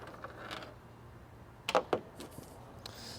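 Tools being handled in the trunk of a 2005 BMW 325xi toolkit: a few sharp metallic clinks and rattles close by, a cluster of two bright knocks mid-way, with quieter shuffling before and after.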